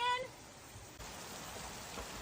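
Rain falls steadily in a soft, even hiss outdoors, with a brief tone at the start and no talking.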